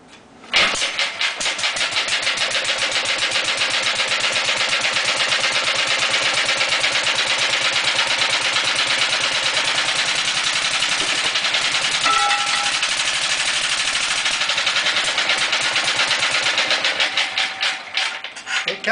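An early-1930s Sattley 1 1/2 HP engine runs steadily for the whole stretch, its rapid, even chuffing and mechanical rattle loud and close, fading slightly at the end.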